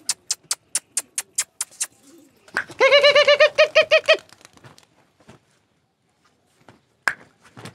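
A run of sharp, evenly spaced wing claps from pigeons in flight training gives way to a loud, close burst of rolling coos, then quiet with a few stray taps.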